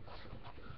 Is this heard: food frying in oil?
no